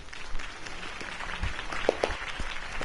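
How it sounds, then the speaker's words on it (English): A crowd claps and cheers steadily in a video game, a dense wash of applause that sounds somewhat distant. "could have heard that applause"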